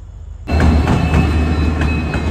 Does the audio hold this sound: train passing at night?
yes